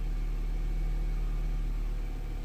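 An Audi A5 1.8 TFSI with several engine faults, just started and idling, gives a steady low hum with no change in pitch, close and even throughout.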